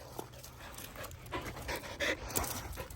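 A happy dog pants rapidly and steadily up close after an outing, the quick breaths repeating in a continuous rhythm with no talk over them.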